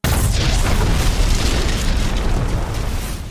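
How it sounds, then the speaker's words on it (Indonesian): A wartime enemy trap detonates when stepped on, a single loud, close blast with a heavy low-end boom that rolls on for a few seconds before thinning out. "kapten menginjak perangkap musuh dan meledak di depan Poirot"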